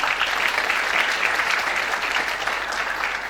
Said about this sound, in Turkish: Want to clap for yourself?